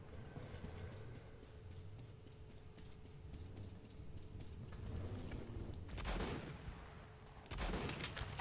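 Gunfire in the video game Metro 2033 Redux, likely a shotgun: two loud, sharp broadband blasts near the end, heard over a low rumbling in-game ambience.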